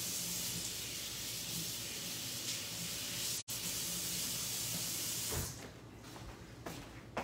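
A spray bottle of cleaner hisses in a steady spray across a kitchen counter, loud and close for several seconds, with a brief cut midway and softer wiping and handling sounds afterward.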